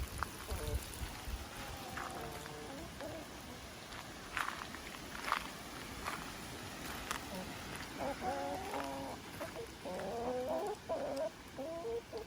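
Several hens cluck softly and intermittently nearby, with bursts of chattering calls toward the end and some faint shuffling in the background.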